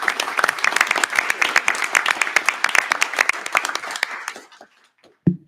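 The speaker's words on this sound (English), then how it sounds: "How about a round of applause for our chief here?" A crowd at a township council meeting applauds their police chief with loud, dense clapping that stops abruptly, followed by near silence and a brief thump.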